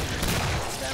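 A crawler sniping in a video game match, heard as dense, continuous gunfire with explosions, loud and crowded throughout, with a voice mixed in underneath.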